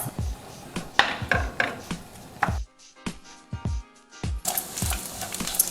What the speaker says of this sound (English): Now I'm going to brown the bacon.